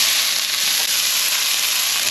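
Onions fry in olive oil for pizza puttanesca, a dense, even sizzling hiss filling the space close up, steady throughout with no voices.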